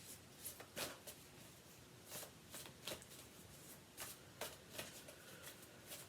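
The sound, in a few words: shuffling a Moonology oracle card deck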